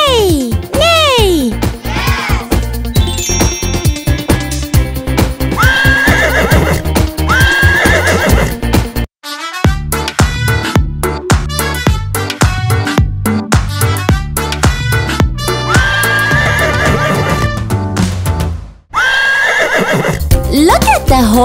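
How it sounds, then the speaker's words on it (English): Toy horse sounds in a children's farm animal song: repeated whinnies and neighs over rhythmic clip-clopping hooves and bright music, loud and continuous throughout. "The horse goes neigh, neigh."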